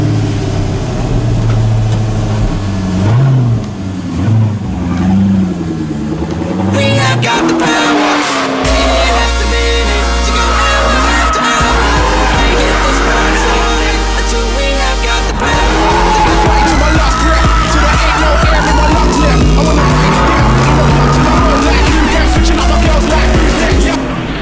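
A modified car accelerates hard on a race track, its loud engine roaring and climbing in pitch through repeated gear changes. The engine note drops sharply around corners and then builds again under heavy throttle.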